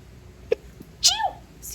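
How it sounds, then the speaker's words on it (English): A person sneezes once indoors: a single sharp, loud burst that trails off quickly against a quiet background. "Sorry, I sneezed."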